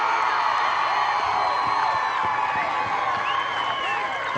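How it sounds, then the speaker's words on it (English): Baseball crowd at a North Dakota state Class B championship game cheering steadily after a leadoff double, with kids' shouts and whoops rising over a continuous, fairly loud wash of voices. "Thompson's crowd is really getting into it now"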